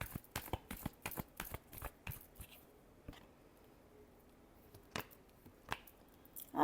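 A deck of tarot cards being shuffled, with a quick run of crisp, close riffling snaps at the start, then scattered single card taps and flicks amid quiet pauses.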